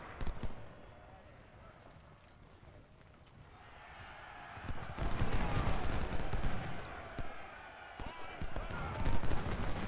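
Volleys of musket and rifle fire from Civil War soldiers in a Gettysburg battle game, dense crackling shots that swell louder in the second half, with no talk over them.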